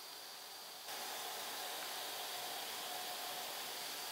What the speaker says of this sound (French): On entend le ventilateur du contrôleur qui se met en route, c'est normal, c'est pour refroidir.